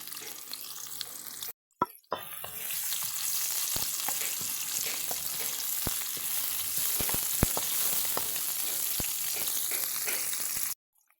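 Onion sizzles in hot cooking oil in a pan, a steady, dense crackle that starts suddenly, carries scattered sharp pops and stops abruptly at the end.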